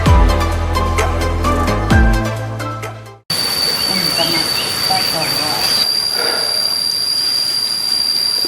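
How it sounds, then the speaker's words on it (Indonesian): Insects chirp steadily in a cool forest in Banjarnegara, a dense, continuous high buzzing drone that follows a few seconds of ringing musical tones. "Ya beginilah suasana, namanya di hutan, banyak pohon"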